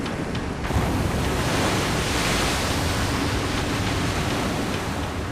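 Giant tsunami waves crash over the seawall at the Fukushima nuclear plant on the Japanese coast, a loud, continuous roar of churning water and rushing noise that swells at the start and holds steady without speech.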